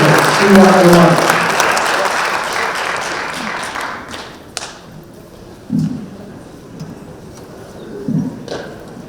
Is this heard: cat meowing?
no